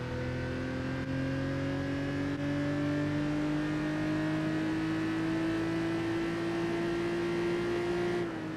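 Racing engines from Gran Turismo 4 drone steadily as a Celica Supra chases an Accord, with the pitch slowly climbing under acceleration. No voices are heard.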